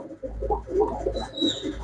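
Pigeons, a mixed group of males and females kept for sale, give soft, low cooing in short overlapping phrases, nearby but fairly quiet, over a faint steady background hum.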